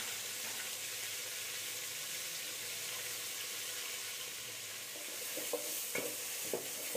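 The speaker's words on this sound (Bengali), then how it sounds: "এবার একটু নাড়িয়ে চাড়িয়ে তেলের সঙ্গে মশলাগুলো কষিয়ে নেব" Garlic and ginger paste frying in oil, a continuous close hiss and sizzle with scraping stirs growing more distinct toward the end, no voices.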